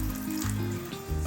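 Water pours into a pot of smoky Nigerian jollof rice, a short splashing trickle over low, tonal kitchen rumble, close and moderately loud.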